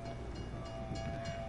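A train passes through a Cold War Zombies map, Mauer der Toten, with a steady rumbling roll and a sustained horn-like tone held over the top, moderately faint and continuous.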